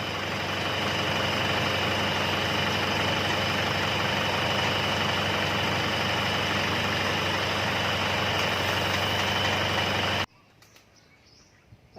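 A pickup engine idles steadily and loudly for about ten seconds while air is bled from the coolant system, with a constant low drone that then cuts off abruptly, leaving quiet background.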